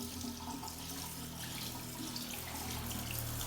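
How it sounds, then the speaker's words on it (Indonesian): Water runs steadily from a tap opened with the elbow at a sink during an aseptic handwashing procedure, a continuous close splashing stream with no voices. "kita akan buka keran dengan siku."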